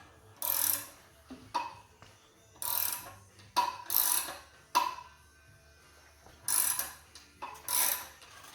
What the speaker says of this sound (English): you hear the foil wrinkling now